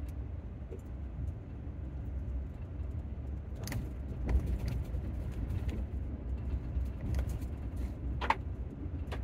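A vehicle creeps along an old gravel road at a remote boondocking spot: a steady low rumble with occasional crunches and rattles from the tires and body, moderately close, with no talk.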